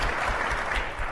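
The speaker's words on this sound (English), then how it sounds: "Why don't we give him a round of applause?" Audience applauding a general at a global leadership forum, a short burst of steady clapping from a room full of people, heard fairly close.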